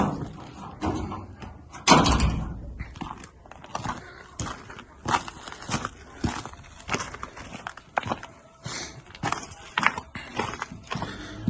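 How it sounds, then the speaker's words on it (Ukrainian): The door of a rabbit shed is opened, giving a series of scattered knocks, scrapes and creaks, with a sharper clatter near the start and irregular bumps and footsteps after it. "Так, відкриваємо тут двері."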